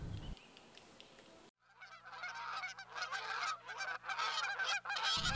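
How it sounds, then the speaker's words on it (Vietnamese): Hornbills among forest fruit trees give a loud, dense run of harsh, honking calls that keep overlapping. The calls begin after a brief quiet stretch and carry on close by. "Hồng hoàng là một trong những cư dân náo nhiệt nhất của khu rừng"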